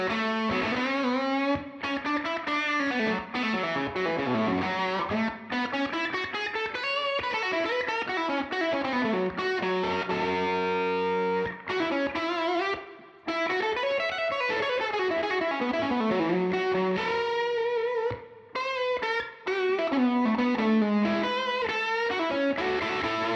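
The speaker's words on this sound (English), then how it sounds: "Maybe let's give it a bit more reverb." An electric guitar played through reverb and distortion effects, sustained gliding melodic lines with swelling, smeared tails, continuous and loud, with brief gaps between phrases.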